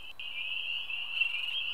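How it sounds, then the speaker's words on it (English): An American toad gives a long, steady, high-pitched trill at a pond at night, with a brief break near the start and quiet surroundings. "Yep, it's an American toad."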